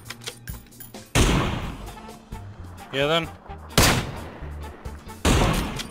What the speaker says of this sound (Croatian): Pucaj gore na narančasti marker